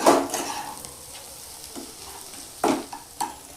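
A spatula scrapes and stirs a pumpkin and egg dish in a frying pan, with a few distinct scraping strokes over a soft, steady sizzle, close and clear with no talking.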